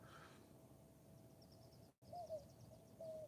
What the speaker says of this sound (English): Here's some pretty damn loud birds.